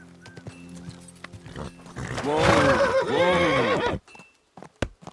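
A horse neighs loudly in the medieval game Kingdom Come: Deliverance II, one long shaky whinny in the middle with hoofbeats before it and a few faint clops after.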